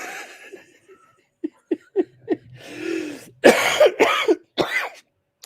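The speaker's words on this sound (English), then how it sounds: "I need to make you cough." A person coughs repeatedly on a talk show about wrestling. Several short, clipped throat bursts are followed by a few louder, harsher coughs close to the mic, with quiet gaps between them.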